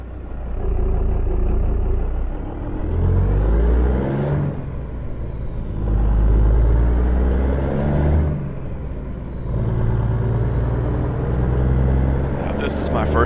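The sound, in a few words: clapped out 359 truck with small cam Cummins pulling away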